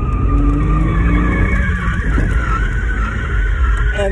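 A Porsche Boxster spins through a 180 on a performance driving school course, its tires skidding loudly against a steady engine roar for about four seconds, with no talk.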